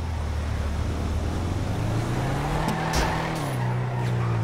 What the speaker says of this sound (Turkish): Çok ama çok kayıyor araba.